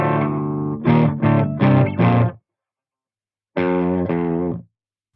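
Clean electric guitar played straight into the front of a Fender Mighty 15 amp with no pedal: a burst of four quick strummed chords, then silence, then two more chords ringing out, loud and close with no talking.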